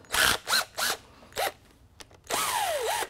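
A ratchet works bolts loose during a Suzuki Hayabusa motorcycle engine teardown, giving several short whirring bursts followed by one longer drawn-out pass, close and fairly loud with no talk over it.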